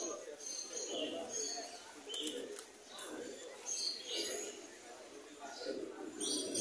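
Quiet cooing of caged pigeons fills a pigeon market in Mirpur, Dhaka, with soft repeated calls mixed into nearby talk and general crowd murmur.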